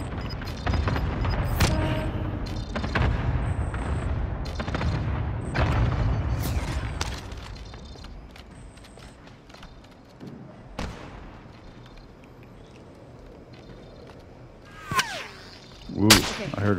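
Cluster strike explosions in the Warzone Rebirth video game: a rapid series of loud sharp booms and cracks in the first half, then quieter distant blasts, with brief voices in between.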